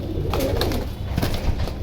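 Pigeons at a fancier's loft coo softly in low, rolling bursts close by, with light rustling and faint background noise throughout.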